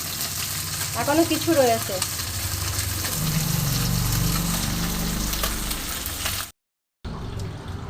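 Fish sizzles and crackles steadily in oil in a wok, a close, continuous frying hiss with brief stirring; a voice speaks briefly over it before a short cut to silence and the sizzle resumes.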